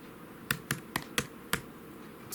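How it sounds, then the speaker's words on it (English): Keys on a computer keyboard are struck in a short burst of about five crisp, separate taps at an uneven pace, close up, in a quiet room. "in the terminal, you want to type --volume, just like this"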